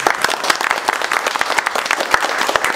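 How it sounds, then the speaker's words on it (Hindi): Students applaud for an ill teacher, a dense, steady burst of many hands clapping close by that fills the whole moment at an even level. "उनके लिए तालियां।"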